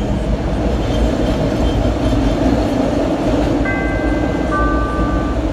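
A Chicago CTA Green Line elevated train rolls along with a loud, steady rumble and rattle of wheels on track, and a few thin high tones ring out near the end.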